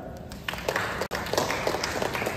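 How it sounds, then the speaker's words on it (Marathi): A crowd applauds steadily in a dense wash of clapping, with a brief cut partway through before it carries on. "तुमच्या सर्वांसाठी जोरदार टाळ्या."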